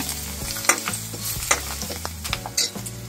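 Garlic, mustard seeds, ginger, green chili and curry leaves sizzle and fry in a pan for a cauliflower and kabuli chickpea curry, with steady loud crackling broken by a few sharp scrapes and clinks of a stirring spoon.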